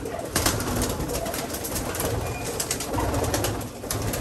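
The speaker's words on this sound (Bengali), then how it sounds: "যে কবুতরগুলো এখন জোড়া দিব" Racing pigeons in a loft coo softly in low, rolling bursts over a constant background hiss, with a few faint rustles and no voices.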